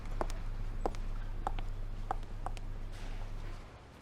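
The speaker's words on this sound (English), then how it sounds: "I heard footsteps behind me and turned around." Footsteps coming up behind someone in the puzzle adventure game Virtue's Last Reward, a handful of soft, evenly spaced steps over a steady low hum that fades out near the end, with no voices.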